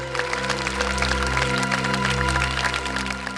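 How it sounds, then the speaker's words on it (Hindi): Applause from a crowd on the set of the Hindi TV crime series CID, a continuous patter of many hands over a strong steady low hum, with no one speaking. "तालियां!"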